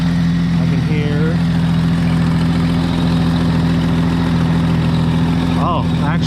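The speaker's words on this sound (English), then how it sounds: "Oh, actually the exhaust manifold is actually cracked." Jeep Cherokee XJ engine idling with a cracked exhaust manifold, giving a loud, steady low rumble with a rapid ticking pulse; a voice speaks briefly over it.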